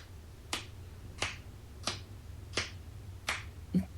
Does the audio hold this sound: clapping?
yes